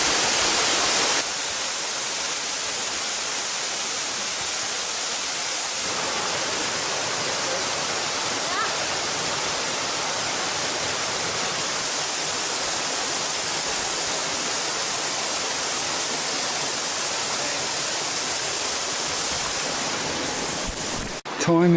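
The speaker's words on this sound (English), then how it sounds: "there's a very big waterfall that we come past" A very big waterfall on a river roars as a steady, loud, broadband rush near a walking track that crosses a pool in its middle, continuous throughout with no break.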